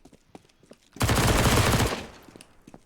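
A sustained burst of automatic AK rifle fire in a first-person shooter game rattles loudly for about a second, bracketed by quiet footsteps and faint ambient game sounds.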